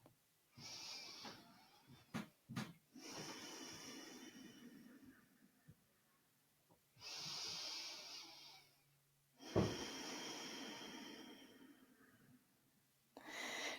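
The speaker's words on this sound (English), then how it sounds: "Three deep breaths." Slow, deep breaths during a yoga twist come as soft, airy rushes in long, evenly spaced waves, close and quiet, with brief faint knocks between them.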